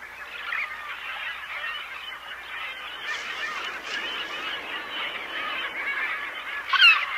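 Herring gulls calling over a puffin nesting colony at nesting time, a dense, continuous chorus of many birds overlapping at moderate distance, with a louder nearby call near the end.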